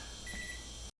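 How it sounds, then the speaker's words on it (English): A kitchen timer sounds a steady electronic beep that lasts under a second before cutting off abruptly. "Timer went off again."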